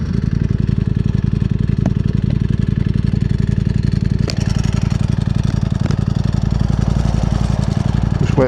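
A Ducati Streetfighter V4 SP super naked motorcycle engine running close by, a loud, fast, even throb that stays steady throughout, with a few sharp clicks and a slight rise in pitch toward the end.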